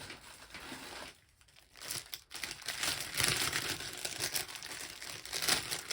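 Tape being pulled and handled for sewing zipper panels, heard as close, quiet crinkling and tearing rustles that come in uneven bursts, with no talking.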